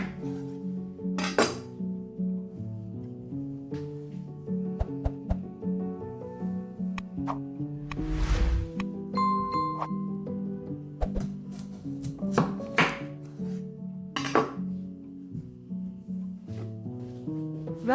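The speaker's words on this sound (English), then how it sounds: "Slice 3 large potatoes in half lengthwise." Three large potatoes being sliced in half lengthwise in a home kitchen, heard as scattered knife knocks and clinks against a board and dishes over soft background music.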